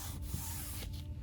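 A folded book page is creased by hand while a book is altered into a junk journal, giving one short, close, dry rubbing swipe of paper at a quiet level.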